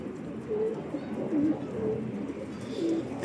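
A pigeon coos softly several times in a slow, repeating rhythm, close by, with faint background noise.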